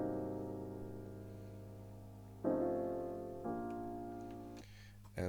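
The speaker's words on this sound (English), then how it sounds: "Then we have this piano coming in with the low notes as well." A dark, gritty piano part plays low notes over a steady sustained drone, with new chords struck at intervals that each swell and then slowly fade.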